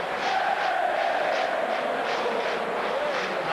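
A large football crowd of Rangers fans celebrating at Dundee United, a dense, steady roar of cheering and chanting that holds loud throughout, with rhythmic swells rising and falling on top.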